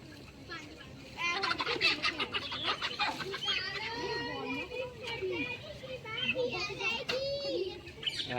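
Aseel hens cluck and squawk excitedly nearby while children chatter and shout over them, lively and close.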